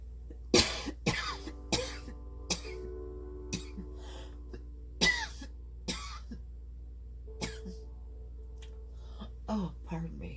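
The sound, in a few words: cough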